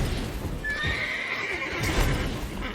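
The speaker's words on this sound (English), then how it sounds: "Okay, horses, please shut up." A horse in The Witcher 3: Wild Hunt gives a long loud whinny, with hoof clip-clops and ambient game noise around it.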